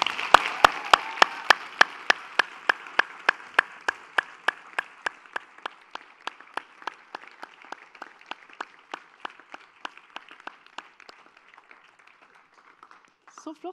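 Audience at a student society meeting clapping in a slow, evenly spaced rhythm of sharp claps that gradually fades over about thirteen seconds.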